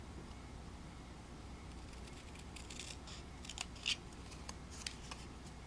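Scissors snipping through a paper card at close range, a few soft crisp cuts with one sharper snip, otherwise quiet.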